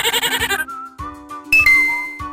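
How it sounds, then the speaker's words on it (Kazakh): A goat bleats in a rapid wavering burst, followed by a few ringing dings and jingling chimes. "Ешкі."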